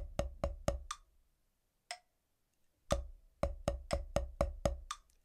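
A snare drum playing a sixteenth-note bar with no accents, close and fairly soft: a few even quick strokes, a gap, a lone hit, another pause, then a longer run of evenly spaced strokes.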